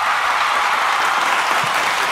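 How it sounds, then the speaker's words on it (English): A crowd cheer sound effect plays as a loud, steady wash of applause and cheering, brief and without speech. "Did you just hear the crowd cheer sound effect?"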